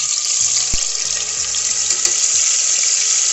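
Masala hits smoking-hot oil for rajma, setting off a loud, steady hiss of frying that holds for the whole stretch, with a few faint clinks of a utensil underneath.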